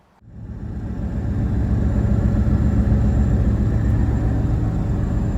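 A truck engine starts and settles into a steady, loud idle rumble close by, running alone without talk for several seconds at a beach camping spot during a tropical storm.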